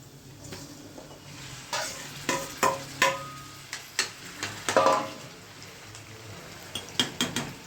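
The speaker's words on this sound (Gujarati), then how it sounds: "લસણ વઘારમાં મૂક્યું છે." Garlic sizzles in hot oil with asafoetida for a Kathiyawadi tempering: a steady low crackle broken by repeated sharp stirring scrapes and pops at an irregular pace, close and alone.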